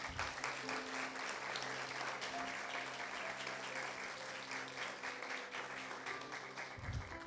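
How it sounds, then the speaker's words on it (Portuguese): A church congregation at a Sunday conference service applauds, continuous dense clapping from a sizeable crowd heard at a distance and fairly soft, with a low steady hum underneath throughout. "Quantos podem aplaudir o nome de Jesus?"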